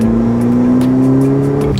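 Ferrari F8 Tributo 3.9-litre twin-turbo V8 revving close by, a loud steady engine drone with a strong tonal hum that climbs slightly in pitch, continuous and alone for about two seconds.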